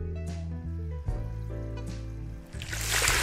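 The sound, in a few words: water filling an aquarium in the video game Aquarist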